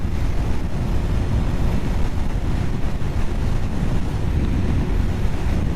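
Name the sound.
wind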